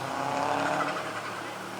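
A Subaru Impreza rally car on a stage of the 2019 Mull Rally roars past close by, its engine loud and continuous with tyre noise, steady throughout the short burst.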